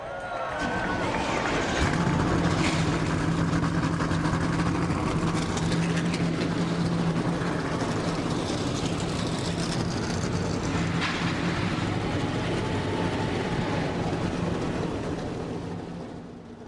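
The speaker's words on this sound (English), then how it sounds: "Drivers, start your engines!" Race truck engines starting and idling together on track at a truck series race in Italy, a dense, continuous low rumble with a crowd-like wash, steady and fairly loud, under an announcer's voice.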